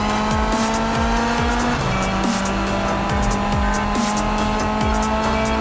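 A Jeep's engine drones loudly and steadily in an off-road driving stunt video game, with repeated sharp tire squeals and skids throughout.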